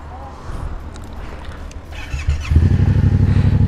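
Motorcycle engine cranking and catching, then settling into a loud close revving putter with a steady rhythmic pulse, preceded by quieter rustling and footsteps outdoors.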